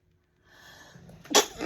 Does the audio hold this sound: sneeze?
yes